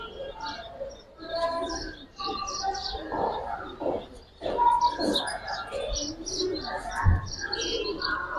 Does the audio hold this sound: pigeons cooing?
yes